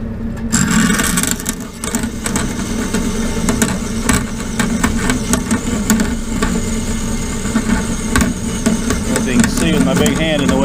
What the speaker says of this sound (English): so just going to get them cut right here on the bandsaw